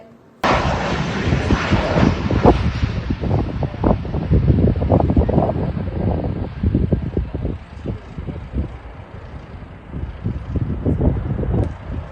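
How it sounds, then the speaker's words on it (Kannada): An Indian Air Force aircraft flies over Shivamogga on a trial flight and landing. A loud, rough, buffeting roar starts abruptly and continues for several seconds, mixed with heavy wind rumble on the microphone. "ಭಾರತೀಯ ವಾಯುಪಡೆ ವಿಮಾನ ಹಾರಾಟವನ್ನು ಪ್ರಾಯೋಗಿಕವಾಗಿ ಆರಂಭಿಸಿ ಯಶಸ್ವಿಯಾಗಿ ಹಾರಾಟ ಮತ್ತು ಲ್ಯಾಂಡಿಂಗ್ ಮಾಡಿರುವ ದೃಶ್ಯಾವಳಿಗಳು ಲಭ್ಯ"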